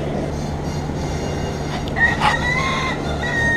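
Chickens cluck over a loud, steady background rumble at an outdoor Caribbean restaurant in Key West, with a few brief higher calls standing out partway through.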